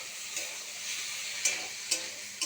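Cumin seeds, green chillies and chopped ginger sautéed in a pan for an egg curry, a steady soft sizzle broken by three sharp scraping stirs, close and alone.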